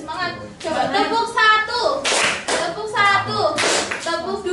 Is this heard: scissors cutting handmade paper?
no